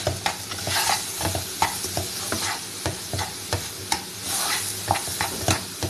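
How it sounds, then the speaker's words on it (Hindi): A spoon stirs egg into a semolina halwa mixture in a pan, giving repeated scraping and clinking strokes in an uneven rhythm over a soft sizzle, close and moderately loud, with no talking. "चम्मच साथ के साथ बराबर चलाते रहें ताकि चीज़ अच्छी तरह उसके अंदर मिक्स हो जाए।"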